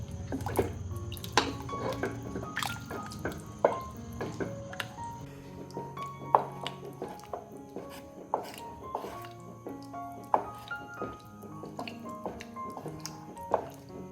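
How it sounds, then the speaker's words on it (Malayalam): Chicken stock poured into ragi soup in a pot and stirred, giving soft irregular liquid drips, splashes and squishy stirring knocks, close and fairly quiet. "ഇതിൻ്റെ കൂടെ തന്നെ ചിക്കൻ സ്റ്റോക്കും കൂടി ഒഴിച്ചു കൊടുക്കുന്നുണ്ട്"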